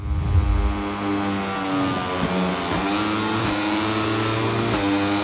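Moto3 racing motorcycle engine in a video game, revving loudly and continuously with shifting harmonic whine and brief gear-change dips, close and alone without talk.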